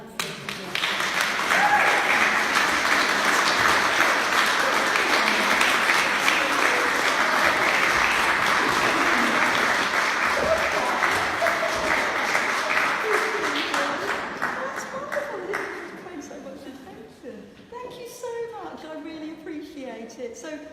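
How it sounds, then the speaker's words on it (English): A room of guests at a book launch party gives a long, loud round of applause that holds steady for many seconds, then thins out into scattered claps as voices start to come through. "A round of applause."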